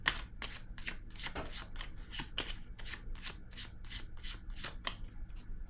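Playing cards being shuffled, a run of rhythmic riffling snaps repeating evenly and close up, fairly quiet against a soft background.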